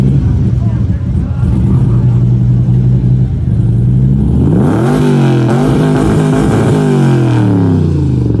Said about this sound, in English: let's hear it for the 66 Corvette of Duffy